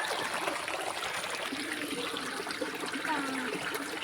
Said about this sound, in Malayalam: ഇവിടെ മൊത്തം ഇങ്ങനെ വെള്ളച്ചാട്ടമൊക്കെ ആട്ടോ.